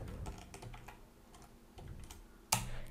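Someone types CSS code on a computer keyboard: a run of soft, close keystrokes in irregular bursts, ending with one sharper, louder key strike, with no talking.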